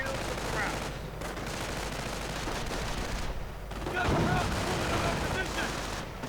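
Mortar and machine gun fire crackle through a World War II strategy game battle, dense overlapping bursts of gunfire with heavier thumps around the middle, steady and fairly loud throughout.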